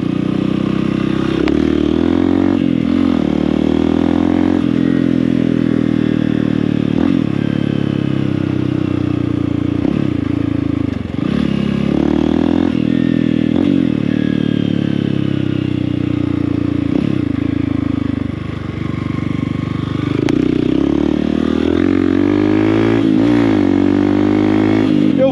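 A motorcycle engine brakes through repeated downshifts. The loud, close engine drone rises and drops in pitch again and again as each gear comes down, with faint clattering mixed in.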